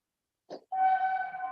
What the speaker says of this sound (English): Why is train sound is coming?